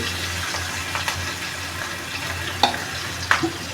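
Onion and chillies sizzle in hot oil in a pan while upma is being made, giving a steady close-up frying hiss broken by a few soft clinks from stirring; no voices.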